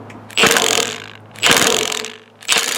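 Allen wrench turning a 5/16 Allen screw counterclockwise on a cheap wood chipper, three loud, close bursts of metallic grinding and clicking, each about a second long, separated by short pauses.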